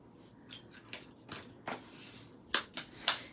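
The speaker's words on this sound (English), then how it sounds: "now we're going to go ahead and fold this one in half" A paper greeting card with a fall leaves design is folded in half, giving a run of soft crisp crinkles and creasing taps close to the ear, ending in a few sharper snaps.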